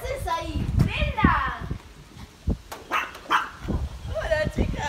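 A dog barks and yips in short bursts close by, amid excited Spanish-speaking voices calling out.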